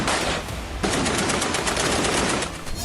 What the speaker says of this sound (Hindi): अस्पताल के अंदर गोलियां बरस रही थी।